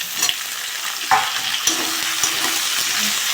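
Potatoes and eggplant fry in a pan with onion and green chilli for a pangas fish curry: a steady, close oil sizzle broken by a few sharp spatula scrapes and clinks.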